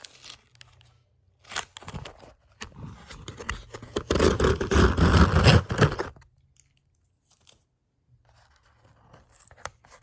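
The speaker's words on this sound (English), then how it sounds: "I cut all these straps and took off all the tape" Plastic straps being snipped and tape pulled off a Majorette Porsche toy car five-pack box, with scattered close clicks and scrapes building to a few seconds of loud continuous tearing and crinkling, then quiet rustles.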